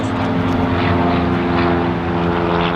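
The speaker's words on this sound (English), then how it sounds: "And that plane is wrapping around." A propeller airplane circles overhead, its steady, loud engine drone holding without a break and with no voices over it.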